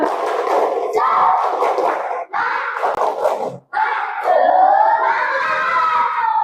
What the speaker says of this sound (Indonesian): Kelihatan tegang, tepuk semangat.